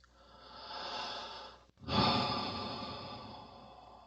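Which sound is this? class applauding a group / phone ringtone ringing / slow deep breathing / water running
slow deep breathing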